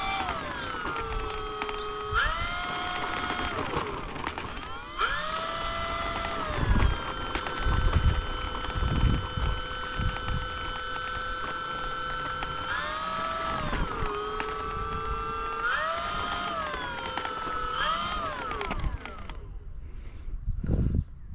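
Electric motor of an E-Flite Corsair RC model airplane whining at a steady high pitch, rising and falling as the throttle shifts through several holds, close and loud over a windy outdoor background before cutting off near the end.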